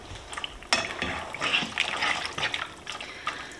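Two cups of water poured into a cooking pot for a vegetable bouillon dish, a short splashing, gurgling pour heard up close that starts abruptly and runs on for a few seconds.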